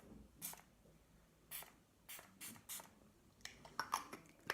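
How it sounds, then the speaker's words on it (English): Several short hissing bursts of a makeup setting spray bottle, about seven or eight quick pumps at irregular intervals, fairly faint and close. "I'm gonna use a setting spray now"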